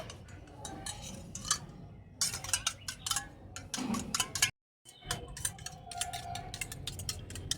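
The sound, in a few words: spoon mixing milk with green food colouring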